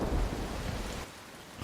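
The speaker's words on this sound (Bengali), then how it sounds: "অনেক দিন পর কালবৈশাখী এলো, এত সহজে আর থামবে না।" Nor'wester thunderstorm: a heavy, continuous wash of rain with a deep thunder rumble swelling loud near the start, then easing to steady rainfall, no voices.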